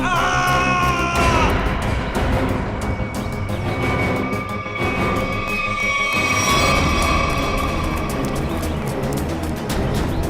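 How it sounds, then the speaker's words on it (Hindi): Screaming rings out in a jungle during a crime-drama scene, a loud, sustained run of strained, yelling cries that rise and fall continuously for about ten seconds over a dense, busy background. "ये आवाज, ये चीखने की आवाज कहां से?"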